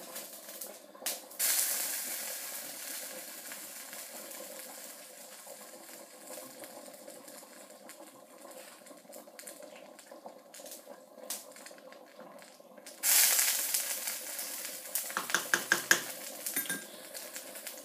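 Butter beans being smashed in a pot of liquid that is not yet boiling. Steady metallic scraping and clinking runs throughout, with louder clattering bursts near the start and again toward the end.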